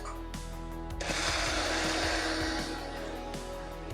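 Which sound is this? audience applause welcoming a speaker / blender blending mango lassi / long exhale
blender blending mango lassi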